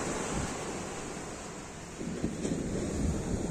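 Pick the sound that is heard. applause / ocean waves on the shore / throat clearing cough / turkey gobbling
ocean waves on the shore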